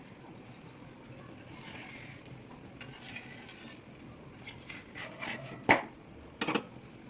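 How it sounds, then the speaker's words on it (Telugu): Ghee sizzles in a hot pan while bobbatlu cook, a soft steady frying hiss with scraping stirs and a couple of sharp clatters near the end, and no one speaking. "ఇలా నెయ్యి చుట్టూ వేసుకోవాలి."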